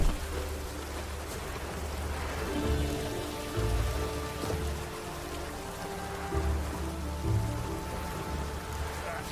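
Steady rain patters on surfaces in a town setting in The Witcher 3: Wild Hunt, a continuous soft wash with low rumbling music or ambience underneath, no voices.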